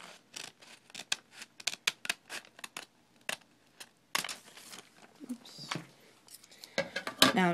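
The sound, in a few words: cutting glass-etching stencil material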